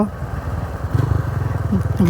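Motorcycle engine idling and chugging through a flooded bypass road with fast-flowing water, a close, throbbing low rumble under a voice talking.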